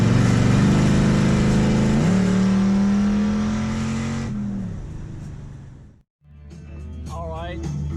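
A 1955 Chevy Nomad with an LS3 V8 engine accelerates hard and loud nearby, its roaring pitch climbing through gear changes. The engine then eases off, drops briefly to near silence, and picks up again at a lower growl.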